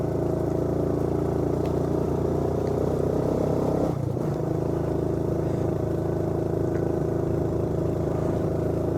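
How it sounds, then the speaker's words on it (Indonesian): An old motorcycle labours uphill in first gear on a narrow, overgrown mountain road, its engine droning steadily and loud up close, with a brief clatter and dip near the middle as the gear changes before the drone resumes. "Saya harus pindah ke gigi 1. Pindah lagi, pindah terus. Ya mohon maaf, motor saya motor lama."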